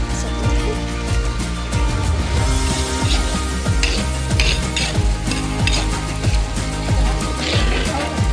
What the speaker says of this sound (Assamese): আৰু ইয়াতে মাংস ভাজি কিনে বনি আছে।